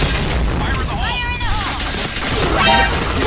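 A grenade blows up in a first-person shooter match, a broad booming burst with gunfire-like crackle that fills the whole stretch, while a voice talks over the game sounds.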